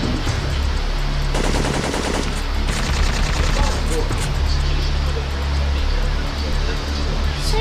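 Gunfire in the video game Syphon Filter 3, with bursts of rapid automatic shots cracking over a constant noisy game backdrop, plus scattered single shots, while people talk throughout.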